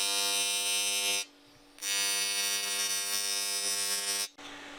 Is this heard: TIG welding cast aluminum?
yes